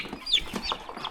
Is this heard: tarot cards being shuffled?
no